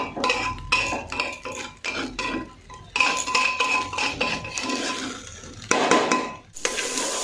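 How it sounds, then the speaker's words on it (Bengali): Rice marinated beforehand is stirred in a pan over a low gas flame, a spoon scraping and clinking against the metal in busy, uneven bursts with soft sizzling beneath, close and fairly loud, with no talking. "গ্যাসটা সিমে করে কিছুক্ষণ ধরে একটু নেড়ে নেব"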